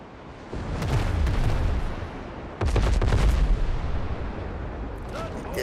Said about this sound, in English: I can already hear the cannons going off.